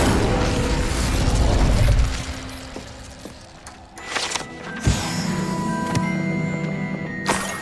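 A fire spell is cast in the Hogwarts Legacy game, heard as a loud whooshing burst followed by sharp crackling pops and a sustained rushing roar with ringing magical tones.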